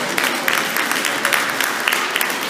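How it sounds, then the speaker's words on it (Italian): A crowd applauds Vittorio Perrone at a memorial torchlight procession in Santa Maria al Bagno, a steady, dense outdoor clapping that continues throughout. "a cui facciamo un applauso"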